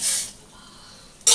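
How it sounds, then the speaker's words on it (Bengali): Fish slid into a pan of rapidly boiling liquid, with a short hissing burst at the start and another sharp sizzle near the end, close and fairly loud with no talking. "একদম ফুটে গেছে, এবার দিয়ে দিচ্ছি মাছগুলো"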